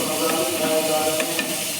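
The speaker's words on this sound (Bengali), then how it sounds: "এবার রসুন বাটাটা দিয়ে দেবো। ভালো করে তেলে নেড়ে নেবো রসুনটা।" Garlic paste frying in hot oil after cumin, being stirred in a pan: a dense, continuous sizzle up close with faint spoon scrapes, no talking.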